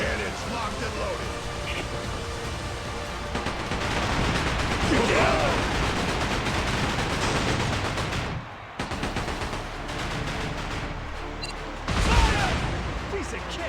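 Ship cannons fire during a naval battle in Like A Dragon: Pirate Yakuza, with dense rumbling blasts and bursts under the game's music and effects while character voices speak.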